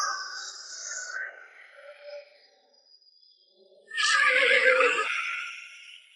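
Horse neighing from the legendary warhorse Red Hare in a historical drama scene, a loud whinny that bursts out near the end after quieter, breathy horse-like calls.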